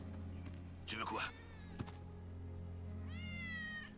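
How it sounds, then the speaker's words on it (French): A cat meows in the game Final Fantasy 7 Remake: one clear meow close up, a soft thump, then a second rising meow, all over a steady low in-game hum. "Oh, le petit chat."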